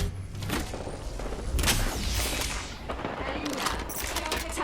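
Gunfire rattles in Apex Legends, with dense rapid shots and thuds from several weapons filling the scene, mixed with game voice callouts.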